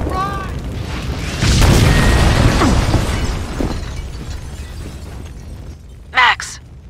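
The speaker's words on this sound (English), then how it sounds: "The building's blowing up." A building blows up in the game Max Payne 2, a loud roaring blast with shattering debris that slowly fades, followed by a short sharp burst near the end.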